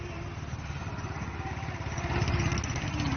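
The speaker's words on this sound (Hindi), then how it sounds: "बीएसएफ के जवानों ने ये बाइक रैली निकाली" Motorcycles in a Border Security Force bike rally rumble past, a steady mid-range engine drone with pulsing exhaust beats that swells louder midway, heard alone without talk.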